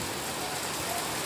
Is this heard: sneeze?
no